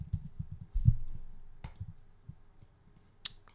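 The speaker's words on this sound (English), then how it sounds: "I can directly type that name in." A name typed on a computer keyboard: a short, quiet burst of close, soft key clicks at an uneven pace, followed by a few sparse taps and a sharper click near the end, with no talk.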